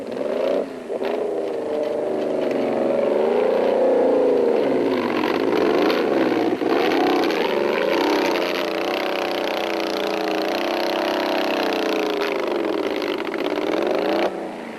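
A sick-sounding Class S race car at the 2006 Carnival City 400 drones loudly and close by for a long stretch, its engine note wavering and rough as it is nursed along, with no talk over it.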